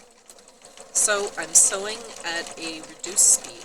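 Overlock sewing machine stitching along the edge of plaid shirt fabric, its steady mechanical whir running under a person talking throughout.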